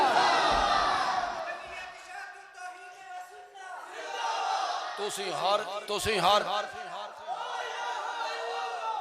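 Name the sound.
crowd chanting the Takbir slogan in response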